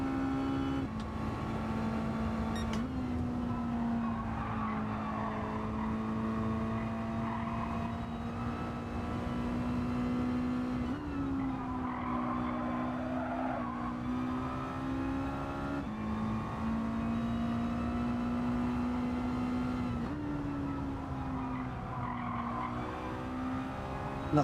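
Race car in a Gran Turismo 7 online race, a loud sustained engine drone with steady high-pitched tire squeal as the car slides, the pitch wavering through the skid with no voices.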